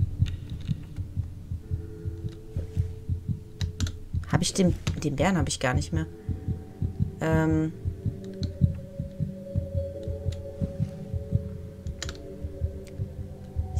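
A steady, muffled heartbeat thumps in a low rhythm throughout the dark video game Among the Sleep, under a German-speaking player's talk and some clicks.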